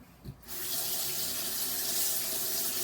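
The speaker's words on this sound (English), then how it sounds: "Rinse it off right away after sharpening" A freshly sharpened kitchen knife is rinsed under a running tap, the steady close rush of water starting after a brief clink and continuing loudly throughout, with no talking.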